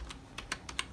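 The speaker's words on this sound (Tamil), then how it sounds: "இப்போ நான் என்னோட குழந்தையோடைய ஆதார் நம்பர் நான் இன்புட் கொடுக்குறேன்." Fingers tap out an Aadhaar number on a computer keyboard, five quick, close keystrokes in an uneven rhythm within a second.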